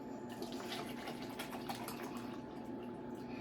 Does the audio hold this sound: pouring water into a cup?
yes